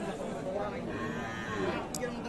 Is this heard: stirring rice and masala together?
no